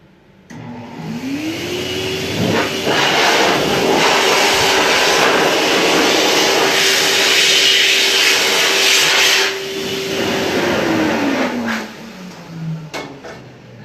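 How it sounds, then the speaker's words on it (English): A small pet blow dryer for dogs spins up, runs with a steady loud whirring rush of air for several seconds, then winds down and stops. "I want to show you how much force and power that even our small dryer has"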